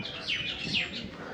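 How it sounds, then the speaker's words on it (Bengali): Birds chirp and call in quick, bright phrases among shady trees on an island near a hillside hut, fairly close and clear over a soft, breezy background. "পাখির ডাক।"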